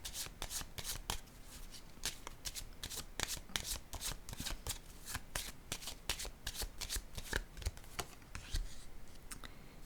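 Playing cards are shuffled over and over in quick riffling bursts with sharp snaps, close and steady throughout, with no voices.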